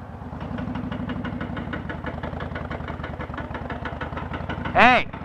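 A Honda VTX 1300 motorcycle idles steadily with a fast, even engine pulse, close and loud, and a short rising tonal chirp breaks in near the end.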